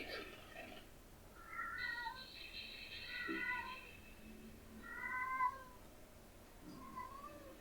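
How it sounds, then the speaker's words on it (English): A cat meows several times during an animated episode of Hunter x Hunter, the drawn-out, wavering calls repeating at moderate loudness over a low background hum. "Is that a cat?"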